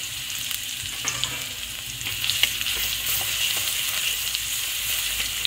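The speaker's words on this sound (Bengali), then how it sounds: "আর ওই যে রসুন নিয়েছিলাম সেই রসুন বাটাটার মধ্যে দিয়ে দিচ্ছি।" Garlic paste fries in fish oil with nigella seeds and chilli, making a loud, continuous close sizzle with occasional crackles and pops and no voices.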